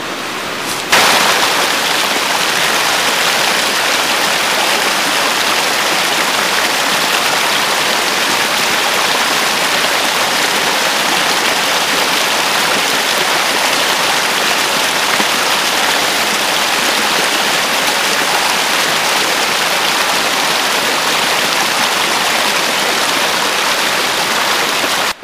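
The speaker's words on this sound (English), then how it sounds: "this water down here, it's flowing water, so that means it's clean" Flowing stream water rushes in a loud, steady, unbroken wash of noise, close by, lasting the whole stretch with no voices.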